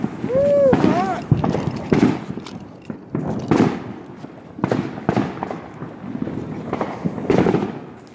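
Backyard 4th of July fireworks and firecrackers pop and bang repeatedly at close range, sharp loud bursts scattered through the clip with a whistling rise early on, while people talk and shout nearby.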